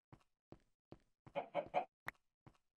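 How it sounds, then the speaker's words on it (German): Chickens in the Minecraft video game cluck in short, separate calls at a steady pace, with a denser burst of clucking partway through. The clucks are clear and close, with no talk over them. "Weil jetzt rennt hier ein Huhn rum."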